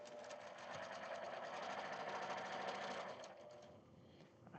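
A sewing machine stitches fabric for a stars-and-stripes quilt, running in a fast, steady close-up whir for about three seconds before slowing and stopping; no speech.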